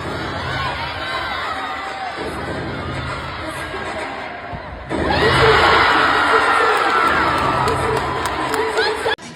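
A crowd at a Missouri versus Iowa State women's gymnastics meet cheers and shouts, building to a louder roar midway and staying lively, with a commentator talking over it.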